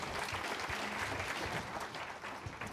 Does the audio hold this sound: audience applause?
yes